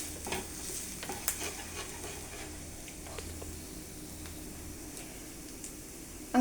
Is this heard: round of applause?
no